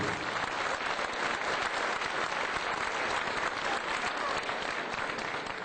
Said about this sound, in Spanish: Un aplauso para todas las familias que están aquí presentes.